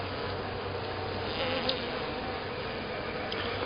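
A swarm of bees gathered at a hive in Lithonia, Georgia, makes a dense, steady, close buzzing drone that holds evenly throughout with no voices.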